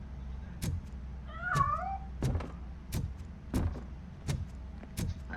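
A cat in the RoboCop Rogue City video game lets out one clear, wavering meow early on, set among a series of regular heavy thuds like footsteps or impacts that continue through the scene.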